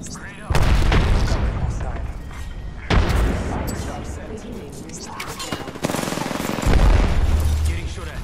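Frag grenade blasts in the battle royale game Apex Legends, loud booming bursts with gunfire crackle, several heavy hits spaced through the stretch amid dense combat noise.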